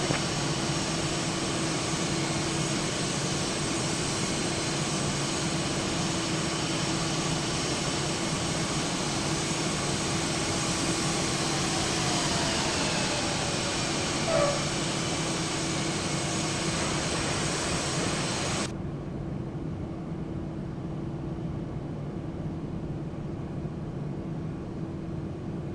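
Boeing 777-300ER jet engines roar in a steady, broad whine during a simulated takeoff in X-Plane, continuous and fairly faint, with the high hiss cutting off abruptly near the end while a low rumble remains.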